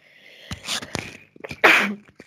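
A single close sneeze with a sharp intake of breath before it, followed by faint murmuring.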